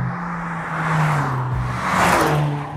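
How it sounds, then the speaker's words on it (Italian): A CUPRA Leon hybrid with modified engine and electric motor pulls away under acceleration, a steady engine drone rising and swelling twice over a few seconds, close and fairly loud with a faint whir on top, no talking. "la macchina prende subito cavalli, non mi dà il classico ritardo dell'acceleratore elettronico"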